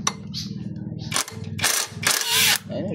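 Bolts being loosened with a ratchet on a vehicle under repair: quick metallic clicking bursts, then a few louder clanks and scraping rattles, close and alone.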